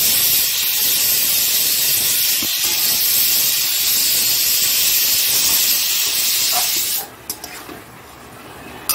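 Mustard paste hits a hot pan and sizzles in a loud, steady hiss for about seven seconds, then drops off sharply into a few faint clinks and crackles.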